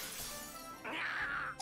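A pot shattering in the strategy game Brigandine: The Legend of Runersia, a short bright crash of breaking ceramic rising over a steady game music bed, with no talk.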